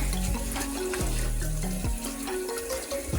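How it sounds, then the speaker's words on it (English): A kitchen faucet runs steadily during preparation of baked oxtail with kale and collard greens, under soft background music. "You guys hear the water?"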